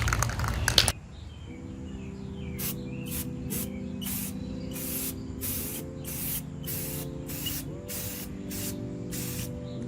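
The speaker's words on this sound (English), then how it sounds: "I'd be fine to use regular black spray paint as well. But I'm just going to spray this on here" Black spray paint hisses onto a goalie mask being refurbished in short repeated bursts, close and steady, over a low sustained background hum.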